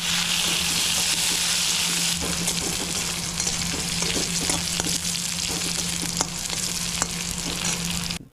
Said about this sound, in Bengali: কড়াইতে আবার বেশ কিছুটা তেল দিয়ে গোটা জিরে এবং তেজপাতা দিয়ে আর তার সঙ্গে পেঁয়াজ দিয়ে খানিক্ষণ নাড়তে থাকলাম